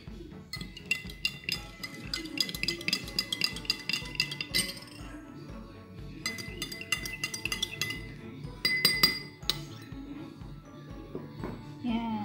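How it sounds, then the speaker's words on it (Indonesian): A metal spoon stirring salt into water inside a drinking glass, giving rapid bright clinks in quick bursts, close and clear, with short pauses between rounds of stirring. "Garam kita campurkan dengan air secukupnya. Lalu kita aduk."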